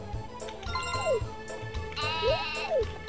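Grown cow in the Nintendo 64 farming game Harvest Moon 64, a synthesized bleating moo sounding twice with rising-falling pitch sweeps over a looping game-music backing with chimes and bass.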